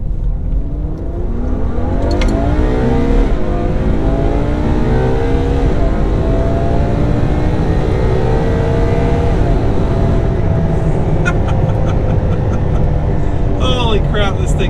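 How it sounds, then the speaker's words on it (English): A Ferrari FF's V12 engine roars and revs hard, rising and falling in pitch through a loud, sustained run, with a voice talking over it. "Gotta love that V12."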